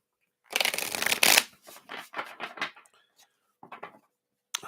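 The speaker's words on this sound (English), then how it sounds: "Let me shuffle one more time here." A deck of tarot cards is shuffled by hand, with a loud riffle up front, then a series of shorter papery flicks and bursts separated by brief pauses, close and clear with no voices.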